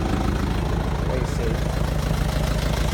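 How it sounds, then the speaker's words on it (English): A Mitsubishi FG 4x4 diesel service truck idles with a steady low rumble and faint knock, close by and unbroken throughout the short stretch. "It's starting up like any diesel, it'll smoke a little bit."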